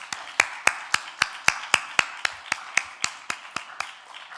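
Sharp, evenly spaced claps ring out about every quarter second in a church service, a single close rhythmic clapping pattern that slows slightly toward the end.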